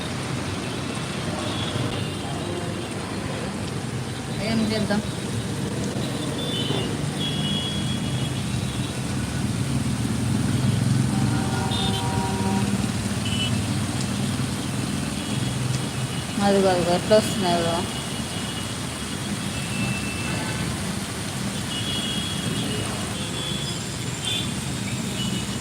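Heavy downpour on a flooded Hyderabad flyover with traffic, a dense, constant wash of rain and road noise throughout, a nearby voice talking over it.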